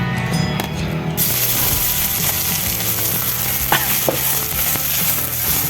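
Onion whites fry in hot oil in a pan, a steady, loud, close sizzle that begins abruptly after the first second and crackles continuously with a few sharper pops.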